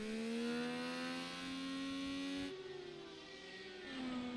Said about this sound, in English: And now you hear him restart the engine.